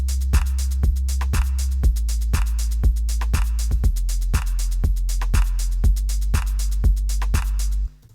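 Simple synthesized bass line programmed in Ableton, with evenly spaced plucky notes over sustained low tones, a clean repeating pattern that stops abruptly near the end; no voices.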